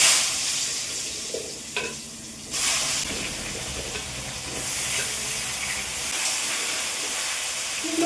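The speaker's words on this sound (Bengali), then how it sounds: "কুমড়োগুলো দিয়ে ভালো করে ভেজে নেবো" Pumpkin pieces fry in a pan with panch phoron, giving a loud, steady sizzle and hiss throughout, with occasional scraping stirs and no talking.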